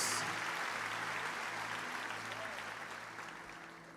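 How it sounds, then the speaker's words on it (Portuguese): Steady applause from a church congregation, dense clapping that slowly fades over a few seconds, with no voices over it. "Dale un fuerte aplauso"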